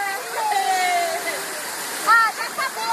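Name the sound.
waterfall at water park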